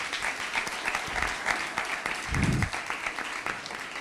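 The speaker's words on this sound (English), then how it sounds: "just want to give them a round of applause" An audience gives a round of applause at a special-occasion performance, steady clapping throughout with a brief low thump midway, no voices over it.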